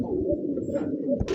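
Indian Bombay pigeons coo close by in low, rolling, throaty phrases, with a brief hiss or flutter near the end.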